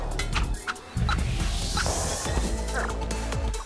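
Cartoon chickens cluck and squawk in the Wand Wars video game, a busy cluster of short bird calls mixed with game effects and some talk.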